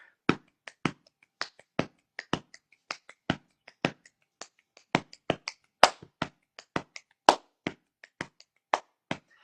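A body percussion rhythm built on crisp finger snaps, with sharp snaps and taps landing in a lively, steady groove, close and dry with no talking.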